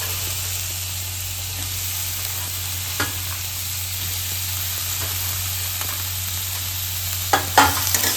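Cluster beans tossed into chillies already frying in a pan with turmeric, giving a steady, moderately loud sizzle and stirring hiss throughout, with a couple of brief clatters near the end and no voices.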